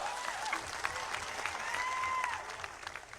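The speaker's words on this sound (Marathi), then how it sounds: "त्यांच्यासाठी जोरदार टाळ्या वाजवा" A crowd at a political rally in Maharashtra breaks into loud, sustained applause. The clapping stays dense and even throughout, with a few scattered voices mixed in.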